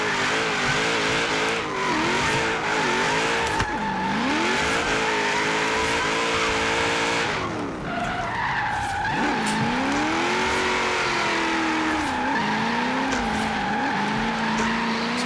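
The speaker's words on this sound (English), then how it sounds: "Having stock tyres and a lot of power, this thing just slides all over the place." A Holden Commodore VK with stock tyres and lots of power drifts in Forza Horizon 3, its engine revving and tyres squealing in long sweeping slides, rising and falling in pitch, loud and close throughout.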